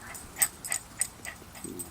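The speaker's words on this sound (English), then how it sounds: "Dog's going nuts." A dog gives a string of short, high yips and whimpers in quick bursts, fairly faint, with a lower whine near the end, heard indoors with no talking.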